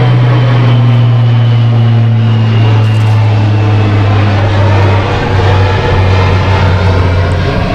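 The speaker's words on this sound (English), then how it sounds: "Interrupted by the C-130." C-130 military aircraft flying overhead, a loud, steady propeller drone with a deep, sustained engine hum filling the whole stretch, no voices.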